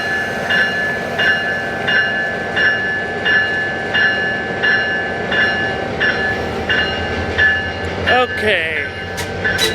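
A passenger train led by an MP36 locomotive with LED headlights rolls past in Simi Valley, loud and close, with steady rhythmic wheel clicks over rail joints, a brief squeal near the end, and a short spoken word.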